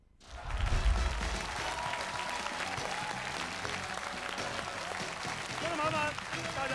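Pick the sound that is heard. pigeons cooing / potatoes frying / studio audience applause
studio audience applause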